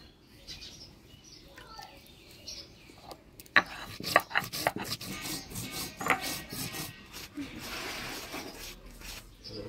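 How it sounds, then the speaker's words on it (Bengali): Ginger and whole cumin are ground into a paste on a stone in a home kitchen, producing a run of rhythmic rough scraping and grinding strokes at moderate loudness, with faint birdsong in the background. "তাইলে প্রথমে আদা জিরাটা বাইটে নিব একটু বেশি করেই"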